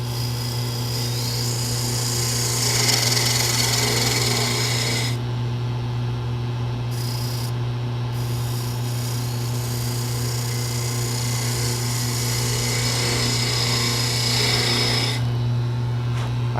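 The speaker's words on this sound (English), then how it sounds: "so I do like to use a spindle gouge there" Spindle gouge cutting a toothpick dispenser on a wood lathe, a steady rough hiss of tool on spinning wood over a constant low motor hum, close and continuous with brief pauses in the cut.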